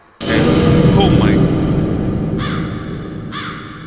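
Loud crows caw in The Mimic horror video game, a harsh burst of overlapping calls followed by two shorter echoing caws.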